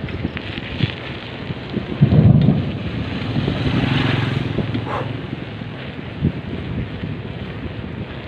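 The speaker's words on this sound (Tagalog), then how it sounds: "Lakas ang kulog nyan." Thunder rolls through a storm with a deep rumbling swell that builds and fades over a few seconds, loud and close, over steady wind and rain noise on the microphone.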